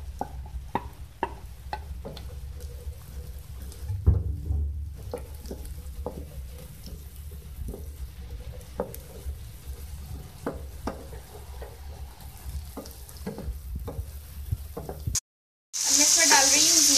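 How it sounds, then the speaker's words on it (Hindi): Okra and potatoes fry in a pan for a bhindi aloo sabzi, a steady close sizzle with occasional stirring scrapes, briefly cut to silence near the end before a louder burst. "इसको हम फ्राई करेंगे। इसके साथ ही मैं डालूंगी इसमें आलू।"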